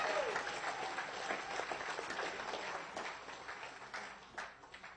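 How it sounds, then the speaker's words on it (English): Sustained audience applause from a seated crowd at a compensation-plan presentation, steady dense clapping filling the whole stretch at moderate distance, with a faint voice underneath. "how about we give a round of applause to Bernard for keeping it in right now"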